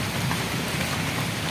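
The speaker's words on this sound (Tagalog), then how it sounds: "kasi ayaw tumigil yung ulan" Steady, heavy rain falls outdoors, a dense unbroken hiss of drops hitting surfaces, close and loud throughout, with no talking.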